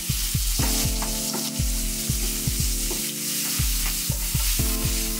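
Fresh garlic, about a spoon and a half, sizzles with shrimp in a hot pan, a steady loud fry broken by repeated scrape-and-stir strokes at a quick, regular rhythm, with no voices.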